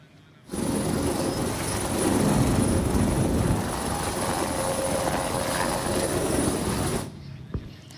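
A helicopter carrying 1,500 kg of disaster aid supplies to a relief post in Agam Regency, heard as a loud, steady rotor and engine roar that holds for several seconds before cutting off, with no talking.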